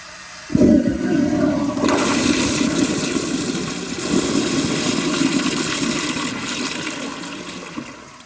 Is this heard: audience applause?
no